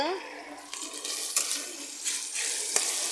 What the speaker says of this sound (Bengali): আমি সর্ষের তেল দিয়ে দিয়েছি কড়াই তার মধ্যে আদা রসুন পেঁয়াজ সব দিয়ে দিয়েছি ভালো করে এবার ভাজা করছি